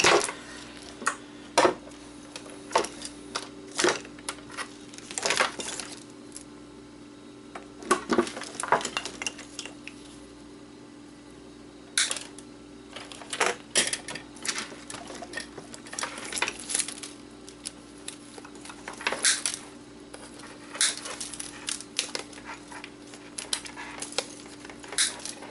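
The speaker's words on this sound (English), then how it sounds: "Let's cut all this wire and ribbon loose." Snips cut wire and ribbon cable loose from a dead treadmill console, producing a series of sharp, close metallic clicks and clinks spaced irregularly over a quiet background hum.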